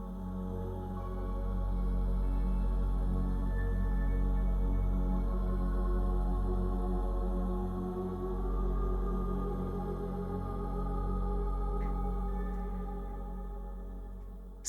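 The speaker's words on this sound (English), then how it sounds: "You might hear that music floating in the background." Soft ambient music drifts steadily in the background of a podcast, sustained tones and low drones holding at a moderate, even level with no talking.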